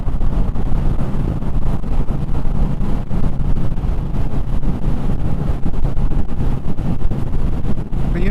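Loud, constant rumbling wind buffeting the microphone while riding a Yamaha XJR1300 motorcycle in a windy area, steady throughout with no talking.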